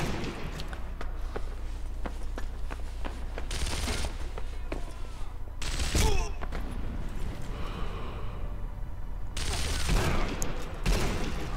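Gunfire in the World War II sniper game Sniper Elite V2, several sharp rifle cracks at irregular intervals over steady game ambience, with someone talking between the shots.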